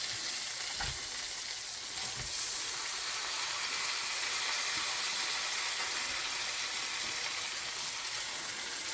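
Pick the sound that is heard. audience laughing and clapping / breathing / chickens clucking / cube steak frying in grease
cube steak frying in grease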